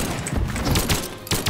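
Rapid bursts of gunfire from guns in the fighting game Brawlhalla, dense and continuous for a second and a half, with sharper shots punctuating near the end.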